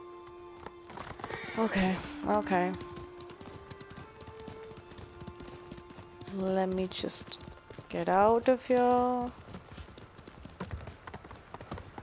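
Horse hooves clip-clop in Ghost of Tsushima, with a few bursts of hoofbeats and whinnies over a low background tone while someone talks between them.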